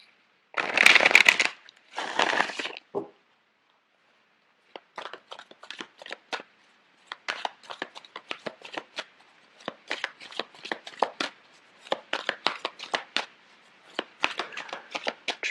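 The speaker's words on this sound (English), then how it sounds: "I'm going to shuffle the cards out for you." Tarot cards being riffled and shuffled up close: a couple of loud riffles, a pause, then repeated crisp, rapid flicks of cards.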